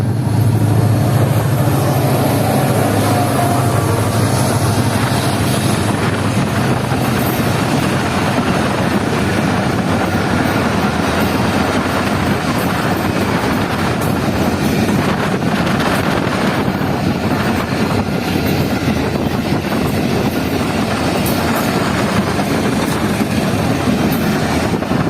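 GMU30 diesel locomotive hauling a Karachi-bound passenger train near Bin Qasim, heard as a continuous loud roaring rumble with rattling wheels and wind buffeting close to the track, no voices.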